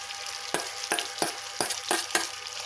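Tempering for a nalleru stem chutney sizzles in hot oil, with a steady frying hiss broken by about six sharp scraping stirs of a spoon in the pan, close and clear.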